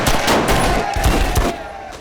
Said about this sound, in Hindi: गोलियां चलनी शुरू हो गई नीचे।